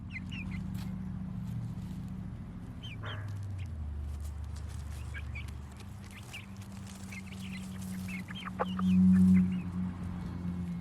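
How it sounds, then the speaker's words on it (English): A flock of chickens clucks and murmurs steadily close by, with soft overlapping calls and a few louder squawks near the end. "It's just a pile of chickens bathing in the dirt."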